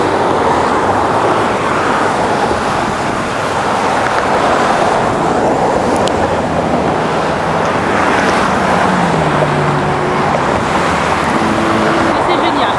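Heavy car traffic roars continuously across a bridge in fog, a dense rumbling wash of engines and road noise with passing vehicles, loud and close, while a person talks intermittently.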